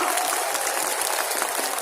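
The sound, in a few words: audience applause at political rally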